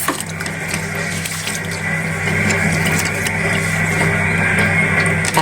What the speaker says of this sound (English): So you know we have to wash the rice properly. Give it a next little wash.